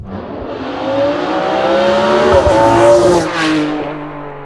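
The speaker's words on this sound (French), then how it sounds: "T'as le V12, à mes yeux, le Graal des moteurs automobiles." A Ferrari 599 GTB Fiorano's V12 engine revs loudly and close up, its pitch climbing through a sustained rise and falling back near the end, with no talking over it.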